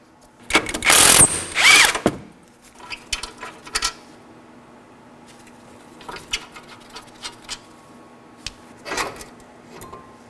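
Close, loud clattering and ratcheting bursts as a brake caliper bracket bolt comes off the front brakes of a 2013-2019 Nissan Sentra, followed by lighter intermittent clicks and metallic handling noises.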